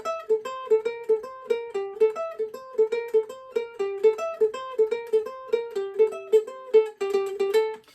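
A ukulele plays a bright, bouncy melody of short repeated notes at a steady moderate tempo, close and clear with no talking.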